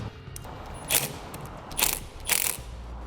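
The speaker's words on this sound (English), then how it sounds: "we'll tighten up those hex head bolts with a 4mm Allen key, and we'll use a wrench to hold the nuts in place" Hex head bolts being tightened with a 4mm Allen key while a wrench holds the nuts during a Superwinch LT3000 winch install on a 2006 Yamaha Kodiak ATV, heard as three short metallic ratcheting clicks over quiet handling noise.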